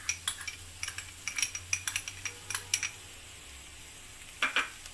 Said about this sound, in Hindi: इसे अच्छे से मिक्स करेंगे।